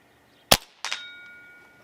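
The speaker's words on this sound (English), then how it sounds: "I'm going to aim dead center and just take a shot" A Crosman Prospect .22 regulated PCP air rifle fires once with a sharp crack, followed a moment later by a ringing metallic clang as the pellet strikes a turkey-shaped steel target, the ring fading away.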